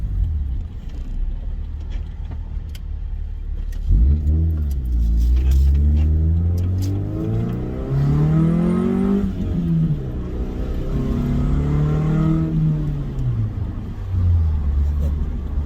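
A car engine, apparently a Honda Del Sol, revs up from idle around the four-second mark and holds a loud rising and falling drone with several throttle swells, close by and alone without talk.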